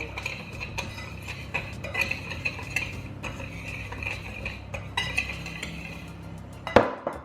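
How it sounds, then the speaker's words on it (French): Whisk or spoon clinking steadily against a bowl while eggs, sugar and cornstarch are mixed for a Paris-Brest cream, a continuous close scraping with a brighter clatter near the end. "Tu mélanges toujours ta maïzena un peu dans le sucre."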